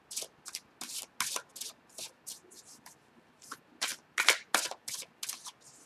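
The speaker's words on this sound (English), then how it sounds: "I'm being very careful with the way I shuffle the cards" Quick ripples of tarot cards being shuffled, several crisp bursts in an irregular rhythm, close up with no talking.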